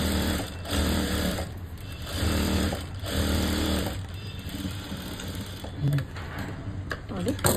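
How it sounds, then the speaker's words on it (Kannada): A sewing machine stitches the side seam of a blouse in several bursts of rapid, close, whirring stitching separated by short pauses, while someone talks alongside. "ನೋಡಿ 3 ಸ್ಟಿಚ್ಚನ್ನು ನಾನು ಹಾಕ್ತೀನಿ ಸ್ಟ್ರೈಟು"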